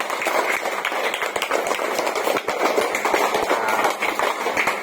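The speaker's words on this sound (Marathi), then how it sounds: "दादासाठी जोरदार टाळ्या वाजवा" A group of children claps loudly and rapidly for several seconds, a dense, close, continuous patter of hands with no break.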